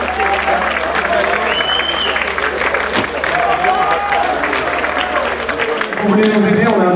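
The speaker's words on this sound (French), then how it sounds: "Vous pouvez vous applaudir." Crowd applause and cheering at a live show at a festival, steady and loud throughout, with a voice and amplified hum running beneath it.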